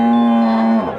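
A single loud, close cow moo at a busy cattle market, one sustained tonal call about a second long that drops and fades at the end.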